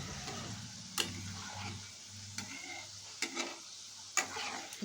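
Snacks of flour dough fry in oil over a low flame with a quiet, soft sizzle, broken by several sharp clicks and scrapes as the pieces are stirred and turned.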